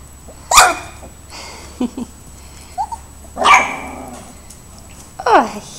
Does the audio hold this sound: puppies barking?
yes